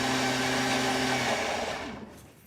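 A blender whirs loudly, blending chopped leek with sunflower oil, a steady high motor whine with tonal hum that runs evenly and then winds down and fades out near the end.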